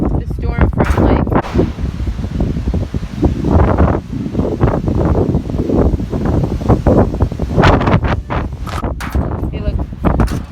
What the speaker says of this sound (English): Yeah, it's windy today.